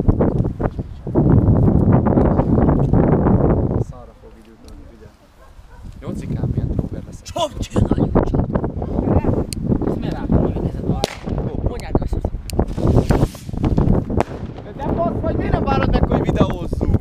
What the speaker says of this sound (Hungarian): Mekkora szél lett hirtelen?